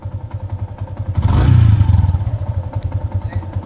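A motorcycle engine idling close by with a rapid, even throbbing putter, rising briefly into a louder surge near the middle before settling back to its steady idle.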